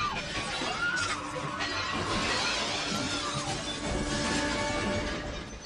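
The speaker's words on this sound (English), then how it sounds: "Don't step right on the glass, though. Like, well, no wonder it's breaking." Glass shatters and crunches underfoot in a horror movie scene from I Still Know What You Did Last Summer (1998), a dense continuous crackling crash mixed with film score and a faint voice.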